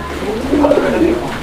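A farm-raised Lahori pigeon gives a brief, low cooing call close up over a faint background murmur.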